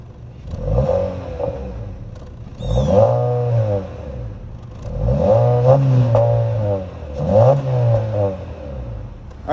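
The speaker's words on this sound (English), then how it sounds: "let's start this 2022 Civic Sport up and hear how this 2-liter naturally aspirated 4-cylinder sounds" A 2022 Honda Civic Sport's 2-liter naturally aspirated four-cylinder fires up and revs repeatedly, four rising and falling surges heard up close with no talk.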